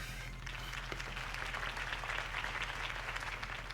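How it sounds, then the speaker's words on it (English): Sustained applause from a crowd in the video game Batman: The Telltale Series, a dense, even wash of clapping that continues without pause throughout, with a low hum beneath. "could have heard that applause"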